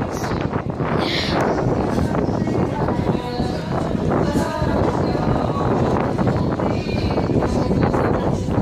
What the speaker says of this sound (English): Guys, it's literally so windy right now.